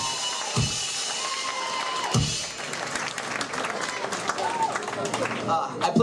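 Loud sustained applause and cheering from a large crowd at a rock concert at the Underworld in Camden, London, continuous throughout with whistles rising over the clapping.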